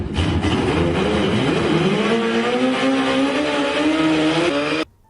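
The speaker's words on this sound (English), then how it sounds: "The Ghost Rider's Turbo Busa is estimated to produce about 500 horsepower" A turbocharged Suzuki Hayabusa motorcycle of about 500 horsepower roars at full throttle, a loud continuous engine howl with rising pitch as it accelerates, cutting off abruptly at the end.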